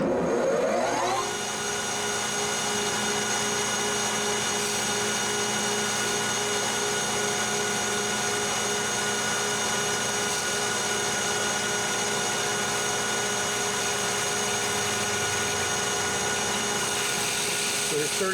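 A lathe takes a heavier cut in CrMo 4140 steel, giving a steady, loud machining drone with a constant tonal whine that holds unchanged from start to finish.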